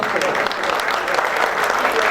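An audience at a Punjabi youth music and culture festival claps to welcome the chief guest, a dense, loud burst of applause sustained evenly throughout.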